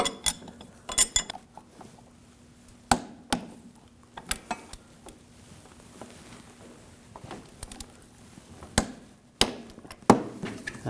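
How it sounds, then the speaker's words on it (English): A wrench works the nuts and bolts on the driveshaft couplers of a 2007-2013 BMW 328i with a 3.0L inline-six, giving sparse sharp metallic clicks and clinks at irregular intervals against a quiet background. "Now I'm going to torque these nuts and bolts to 70 foot-pounds."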